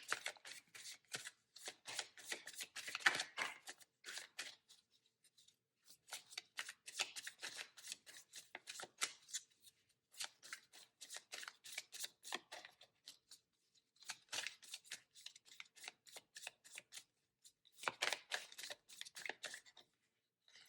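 Cards are shuffled in repeated bursts of quick, soft riffling and slapping, each lasting a few seconds, separated by short pauses of near silence.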